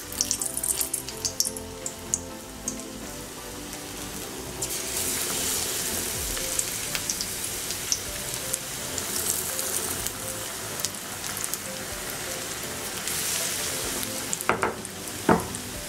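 Raw plantain slices dipped in batter fry in hot oil as bajji, a loud, continuous close-up sizzle with bubbling crackle that swells as pieces go in, with a few sharp clinks near the end.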